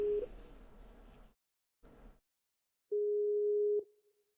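A Skype call dialing tone sounds as a steady electronic beep, heard briefly at the start over background noise and then once more clearly on its own for about a second.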